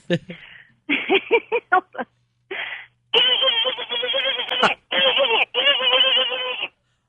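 A voice makes rapid staccato bursts imitating machine gun fire, in short choppy volleys with pauses between, heard close up with a narrow, phone-like tone.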